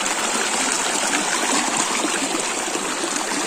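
Water rushes steadily at Karandhamalai falls, a dense, continuous hiss of flowing stream near the cascade with no pauses or speech.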